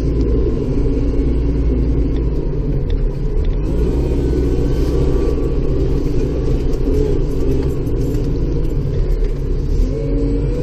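A tractor with automatic throttle advance runs steadily while clearing a light early-winter snow in Bay Roberts, Newfoundland: a loud, continuous low engine rumble close by, holding an even pace without revving.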